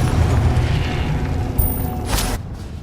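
A Confringo explosion spell goes off in Hogwarts Legacy, a loud, dense booming blast with a bright crackling burst near the end, set against a continuous rumble of combat noise.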